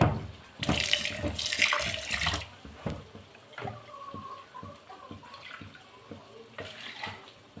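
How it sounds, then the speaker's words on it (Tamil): Running water from a tap splashes into a mixer grinder jar, loud for a couple of seconds, then trickling faintly with scattered clinks and knocks. "மிக்ஸி ஜார் கொஞ்சம் அப்படியே கழுவிட்டு"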